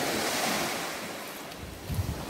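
Ocean surf washes continuously onto Amed beach in Karangasem, Bali, a steady broad wash of breaking waves with wind buffeting the microphone, heard alone at moderate level.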